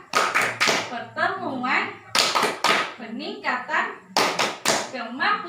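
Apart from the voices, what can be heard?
rhythmic group clapping chant, tepuk P2K2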